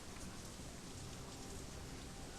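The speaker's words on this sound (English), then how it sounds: "Foul, oily water rains down from above" Steady, dense rain pours down in a grimy Hong Kong street scene in the Shadowrun: Hong Kong video game, a continuous even hiss with no pauses and no voices.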